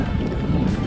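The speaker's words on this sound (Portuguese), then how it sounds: "tá ventando pra porra." Heavy wind during the Adelaide Marathon buffets the microphone with a loud, low rumble that gusts continuously throughout.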